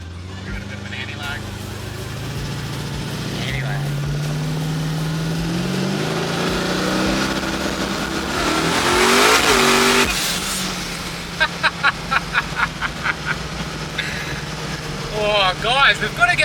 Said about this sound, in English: let's go for a drive in JR's 1300 horsepower VT